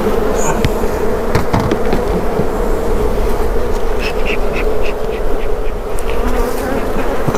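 Honeybees buzzing loudly and continuously at an open hive during a honey harvest, a dense close-up drone of many insects with a few sharp taps and knocks, with no voices.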